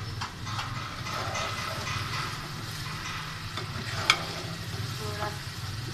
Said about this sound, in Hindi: ज़रा इसको मैं 1-2 मिनट और थोड़ा सा फ्राई करूँगी, ताकि ये जो मैंने अदरक और हरी मिर्चें डाली हैं ये थोड़ी सी नरम हो जाए।